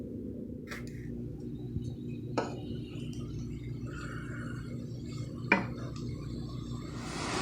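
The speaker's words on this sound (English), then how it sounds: "All right, stir frying it up." Peppers and onions are stir-fried in a pan, with scattered clinks and scrapes of a utensil against the pan over a low, steady sizzle and background hum.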